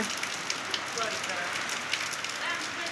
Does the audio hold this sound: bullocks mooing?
no